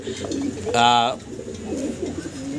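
Black Danish pigeons cooing, one clear rolling coo near the start of the sequence, close by, amid faint background talk.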